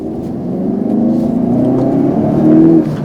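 A 2019 Hyundai Veloster N engine hums and revs steadily from inside the cabin in normal mode, its pitch rising as it accelerates, loud and continuous with no talking.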